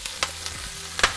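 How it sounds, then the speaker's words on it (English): Wet chopped chard sizzles as it hits a hot pan on medium heat with garlic, a steady frying hiss broken by a few sharp crackling pops, close and fairly loud, with no voices. "Sorry for the sizzle, it's a little bit wet."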